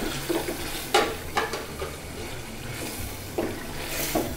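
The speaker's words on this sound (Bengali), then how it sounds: "এবার আমি কাঁঠালি বিচি দিয়ে দিচ্ছি।" Jackfruit seeds are tipped into cooked masala and stirred in a pan, making a soft sizzle broken by a few scraping, clattering stir strokes at irregular intervals.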